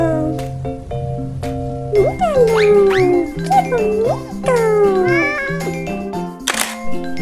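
A cat meows several times, rising and falling cries over a bouncy jingly tune with chimes, and a voice speaks briefly.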